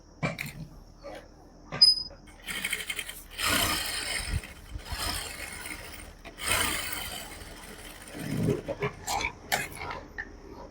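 A sewing machine stitches foam along the edge of buckram in several short runs of rapid mechanical whirring, separated by quiet pauses and light handling noises.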